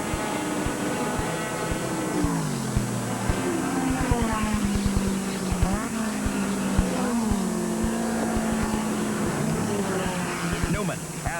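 A Nissan 300ZX Turbo GT-1 race car engine drones steadily on the track at Road Atlanta in 1985, its pitch rising and falling through gear changes as a commentator talks over it continuously.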